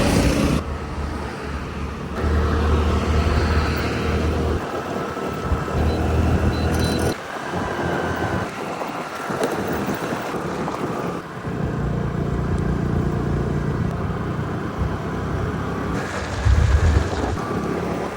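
A scooter rides along a highway toward a village road, giving steady broadband rumble and heavy wind buffeting on the microphone throughout, with a few louder gusts and bumps and no speech.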